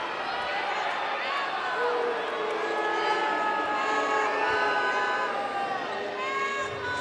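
Basketball crowd in an NBL Canada arena during a Saint John Riptide game, a steady, loud mass of voices and shouts rising in protest over a possible travel, filling the whole stretch with no break.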